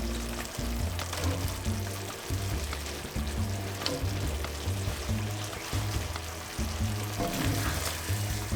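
Tofu hits a pan of simmering stir-fry sauce and fries with a steady, close sizzle, broken by soft stirring and scraping, and no one speaks over it.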